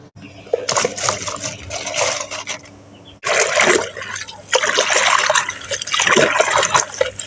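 Small bata fish being rinsed by hand in a bowl of water, steady sloshing and trickling splashes that pause briefly and resume louder, close and continuous with no talk.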